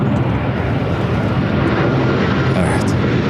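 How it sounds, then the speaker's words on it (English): Airplane taking off from the south side runways at LAX, a loud, steady broadband jet roar that fills the whole clip without letup. "That was a takeoff from the south side"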